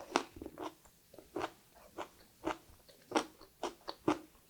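Someone bites and chews cooked broccoli, crisp crunchy bites repeating in an uneven rhythm close up, with quiet pauses between them.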